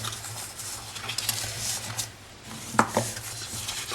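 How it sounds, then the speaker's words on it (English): Cardstock for a partitioned gift box being folded and burnished along score lines, heard as a steady close rubbing and scraping with a few light taps, alone with no voices. "fold and burnish all those score lines"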